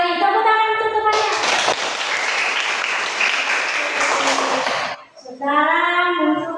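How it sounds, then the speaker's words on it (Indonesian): Classroom applause for classmates after a group presentation: a loud burst of clapping for about four seconds, with children's voices and speech just before and after it. "Tepuk tangan untuk temannya."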